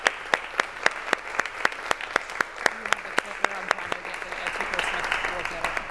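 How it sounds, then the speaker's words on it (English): Audience applause at a workshop session starts as evenly spaced, crisp claps in a steady rhythm, then swells into a fuller, denser clapping toward the end. "Round of applause."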